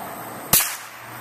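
A single sharp crack from a homemade M1969 .22lr gun firing a round of poor ammunition, one sudden loud report that fades quickly over a quiet background.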